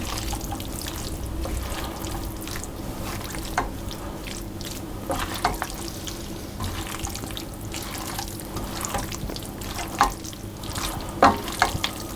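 Frozen caponata being stirred into a frying pan, with a steady wet sizzle underneath and occasional clinks and scrapes of the spoon, close by and without talk.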